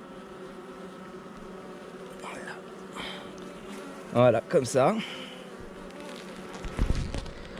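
Honeybees buzzing densely over a fresh brood frame during queen rearing at an open hive, a steady close hum under a beekeeper's brief speech with some handling noise and bumps.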